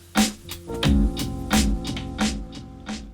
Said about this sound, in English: if I just want to trigger this echo